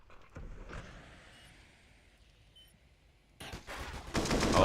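Gunfire in a Counter-Strike professional match, a faint distant shot early on, then a louder burst of rapid automatic fire building toward the end.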